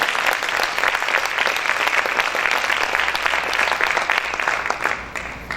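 A church congregation gives loud, sustained applause for the Lord during a Spanish-language service, a dense clapping wash that holds steady and then tapers off slightly at the end.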